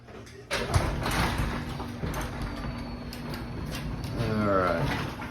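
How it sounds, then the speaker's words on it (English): A residential garage door rolls open on a newly installed Guardian 928 opener, a sustained mechanical rumble and whir with a sharp clunk at the start and a rising drone near the end. "Alright, door opening normal."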